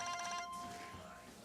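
A mobile phone ring heard during a police encounter in a rural Southern setting: a repeating electronic tone pattern, fairly faint and brief, fading out after about half a second beneath background murmur and voices.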